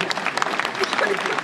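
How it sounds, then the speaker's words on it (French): Audience applause after a night-watchman lantern performance in Rambervillers, a steady dense patter of many hands clapping at moderate loudness throughout, with no voices over it. "Applaudissez-vous, vous êtes géniaux."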